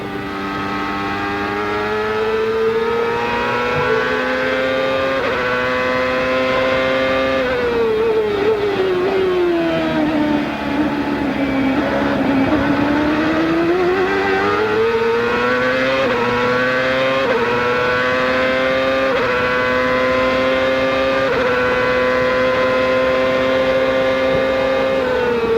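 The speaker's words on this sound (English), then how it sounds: "ride at Della Penna from Norberto Fontana, taking us around the Mid-Ohio Sports Car course." Onboard engine of a CART race car lapping the Mid-Ohio Sports Car Course in 2000, loud and close, with sustained high-revving whine that drops through downshifts into a slow corner, then climbs through repeated upshifts, no voices heard.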